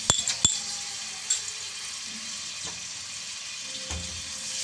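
Garlic and ginger sizzling in a pan for chicken karahi, a steady close hiss that carries on throughout, with a few sharp clinks near the start.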